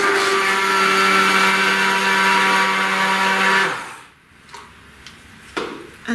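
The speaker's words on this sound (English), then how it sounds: "then use my handheld blender again" Handheld stick blender whirring steadily as it mixes homemade cosmetic cream, a loud sustained motor hum that cuts off after about four seconds, followed by quiet handling clicks and knocks.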